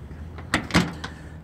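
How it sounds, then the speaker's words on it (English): A Fiat 500 car door opens with a soft click and a couple of quick thuds of the latch and hinge, close and fairly quiet, with no talking. "Has normal opening doors"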